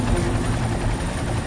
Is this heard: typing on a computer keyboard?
no